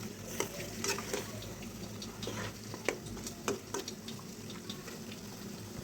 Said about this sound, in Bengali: এইদিকে কিন্তু আমার খিচুড়িটা উতলে গিয়েছে